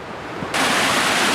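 A winter waterfall hung with icicles roars as a steady broadband rush that swells sharply partway through, close and loud with no voices.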